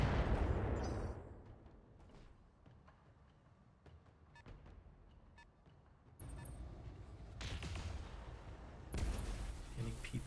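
PPC weapon fire in the BattleTech video game, heavy booming blasts with a crackling roar that swell in and fade out, fairly faint overall.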